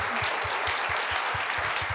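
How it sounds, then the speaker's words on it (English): An audience at a panel talk on purpose-driven brand building gives a round of applause, a dense, even patter of many hands with a faint low thumping underneath, continuing steadily. "giving a round of applause to our panelists"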